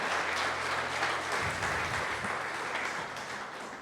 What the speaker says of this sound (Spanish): Vamos a darle otro aplauso al Señor.